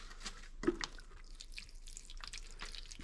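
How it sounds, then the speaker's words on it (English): Water poured onto potted ficus cuttings from a small watering can, giving faint, intermittent drips and trickles with soft splashes, close by and quiet, with no voices. "As a matter of fact, I should probably water them now."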